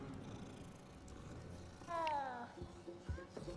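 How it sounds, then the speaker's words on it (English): A cat in Hogwarts Legacy lets out a single short, rising meow midway, quiet and close, over soft background game ambience and a faint low rumble. "is that another cat?"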